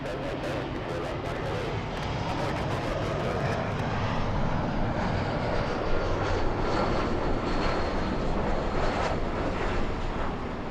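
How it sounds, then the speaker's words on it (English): An Embraer E175 regional airliner flies in to land at LAX on a short hop from Monterey, California, a steady, loud jet roar that swells slightly and holds throughout. "Little E175 flying in from Monterey, California."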